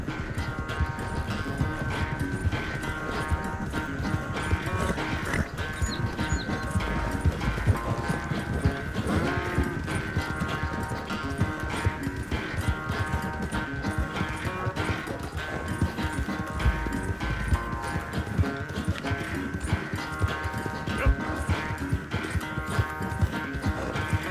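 Rapid, regular hoofbeats of a galloping horse in Red Dead Redemption 2 pound continuously under a busy layer of game music and effects.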